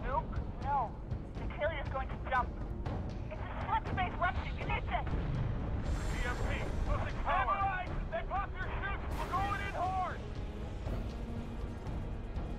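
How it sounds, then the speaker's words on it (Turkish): A nuke detonates in the video game Halo 3 ODST, heard as a sustained loud rumbling blast with booming surges, mixed under game voices and talk throughout. "Covenant just set off a nuke"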